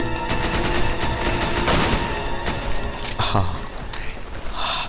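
Gunfire in the video game Resident Evil 5 rattles out in rapid bursts and single shots with mechanical clicks, mixed with game effects and a player's excited speech.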